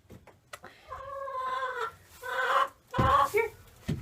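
Chickens cluck and call repeatedly inside a coop with straw bedding, in close, fairly loud bursts with short pauses between them.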